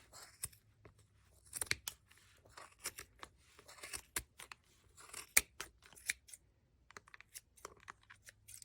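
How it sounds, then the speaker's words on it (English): Sharp scissors snip through yarn for pom pom dolls in a quick, uneven series of crisp close-up cuts and rustles, with brief pauses between bursts. "It's really helpful to have some sharp scissors for this part"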